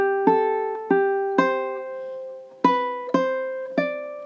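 A ukulele plucks a measure of a song, seven clear ringing notes picked one by one at an even, unhurried pace, close and alone.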